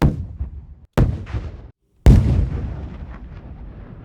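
Three separate booming explosions, each a sharp blast followed by a rumbling decay, with brief silences between them.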